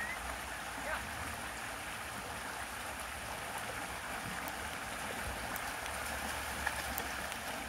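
Steady rushing and splashing of stream water as a dog wades in the Bannock Burn, continuous and fairly even throughout, with no clear voices over it.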